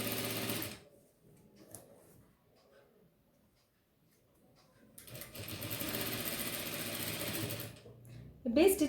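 Domestic sewing machine stitching elastic onto baby boxer shorts, with two bursts of rapid, whirring stitching, one at the start and a longer one later, separated by a quiet gap with soft handling noises.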